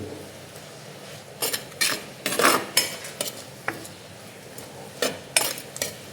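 Onions with chopped tomato, rock salt and curry leaves being sautéed in a pan: sharp scraping and clanking spatula strokes against the metal in irregular bursts over a faint sizzle, no talking.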